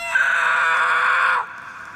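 A boy lets out a single loud, sustained scream lasting over a second, close and piercing, then cut off abruptly, leaving quiet background.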